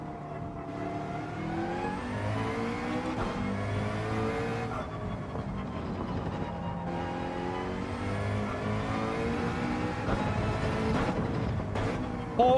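McLaren race car in Gran Turismo 7 with a steady engine drone and rising, shifting harmonics as it revs and accelerates, loud and continuous throughout.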